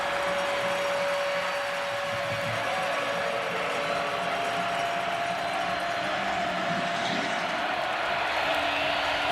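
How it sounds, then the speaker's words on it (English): A large college football stadium crowd in Lubbock roars in a steady, dense wash of cheering and noise that holds at the same level throughout, with no clear voices standing out. "Here comes the crowd here in Lubbock."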